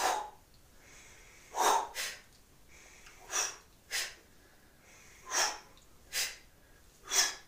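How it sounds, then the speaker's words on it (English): Sharp bursts of exhaled breath accompany punches thrown at a bag or opponent, about eight forceful huffs in an uneven rhythm, close and fairly loud with quiet gaps between them. "So imagine hitting a bag or a person, and as you throw it, you can breathe out."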